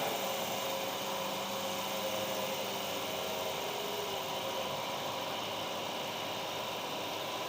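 Hydraulic motor on a training rig running steadily as circuit pressure is released, a continuous mid-pitched mechanical hum and whine that stays loud and unbroken, with no voices over it.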